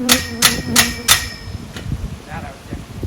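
Four sharp metallic clangs in a steady rhythm as a heavy hammer strikes the metal frame of a trampoline, close and loud, each ringing briefly, followed by fainter knocks.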